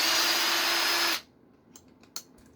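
A power driver spins screws out of a Losi 22S chassis plate in one loud, steady high whir that stops abruptly after about a second, followed by a couple of small clicks.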